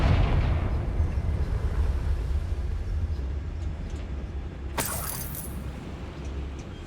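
A Confringo blasting spell explodes in Hogwarts Legacy, a broad rumbling blast that decays into a long low roar, followed around the middle by a sharper crackling burst over continuing low rumble.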